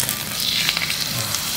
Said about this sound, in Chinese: 锅热倒油，把鱼给放下去